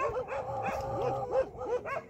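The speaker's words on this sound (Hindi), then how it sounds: "अभी देखो ये देख सकते हो कुत्ते" Dogs barking and yipping outdoors on a hillside road where a car has stalled, a run of repeated barks at moderate distance with a faint voice now and then beneath.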